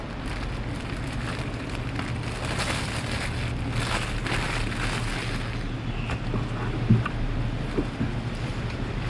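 Strong wind blows through the outdoors on a wild honey-hunting trip in rural Thailand, a loud, steady broadband rush with gusty swells and a few small knocks, no talking.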